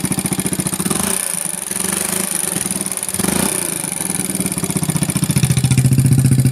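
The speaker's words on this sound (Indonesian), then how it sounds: "Kalau makin digas makin ngeletek, ngelitik apa ngeletek ini ya." A motorcycle engine fitted with a large aftermarket exhaust, recently rebuilt and running rough, revs with a rattly knocking tick rising as the throttle opens; steady, loud, close engine drone with no talk.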